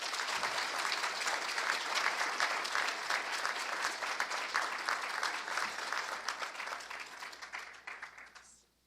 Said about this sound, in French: On les applaudit, s'il vous plaît.